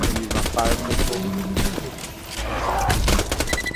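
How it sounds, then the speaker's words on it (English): A fire missile explodes in the Borderlands 2 video game with a dense run of booming blasts and crackling bursts, loud and continuous, while a player talks over the game sound. "I'm gonna use my fire missile."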